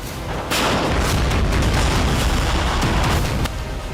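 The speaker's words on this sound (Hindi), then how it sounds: "रूस ने सुमी में मोर्टार दागकर यूक्रेन के ठिकानों पर बारूद बरसाए।" Russian mortar fire on positions in Sumy, Ukraine, heard as a dense, loud, rumbling wall of blasts and booms with no pause, several sharper impacts standing out.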